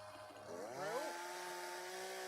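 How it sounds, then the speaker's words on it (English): A chainsaw cuts into hedges from atop a ladder, its steady idle drone rising in pitch as the engine revs up under load, then settling into a sustained whine; fairly distant and continuous. "And he's got a chainsaw,"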